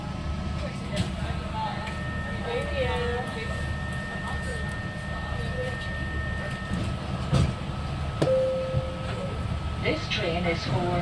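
Riding aboard NIR 3000 class train 3023 bound for Bangor: a steady low rumble of the railcar with clicking wheels, and an onboard announcement voice heard over the running noise.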